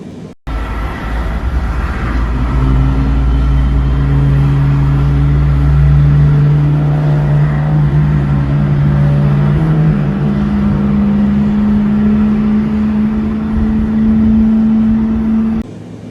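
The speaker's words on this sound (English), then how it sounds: "Okay, starting engine 1." A Boeing 777's engine 1 starts in Microsoft Flight Simulator 2020, a loud, steady whining hum that rises into sustained droning tones and holds for over ten seconds, then cuts off sharply.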